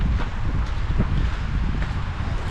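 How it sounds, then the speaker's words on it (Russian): Strong wind buffeting the microphone outdoors in Namsky District, Yakutia, a constant low roaring rumble with gusty texture and nothing else audible. "Распогодилось, хоть ветер еще сильный,"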